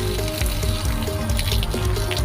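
Water is poured out of a container used for an eel trap, a steady splashing gush that runs without a break for a couple of seconds.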